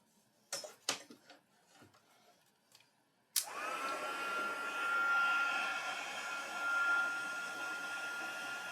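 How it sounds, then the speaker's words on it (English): A heat gun blows on gold embossing powder, switching on abruptly with a sharp click after a few quiet taps and then holding a steady, airy whine. "Take our heat gun again."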